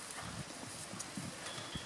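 Hooves of a chestnut horse with four white socks clip-clopping as it moves, a few soft irregular steps over faint background noise, distant and quiet.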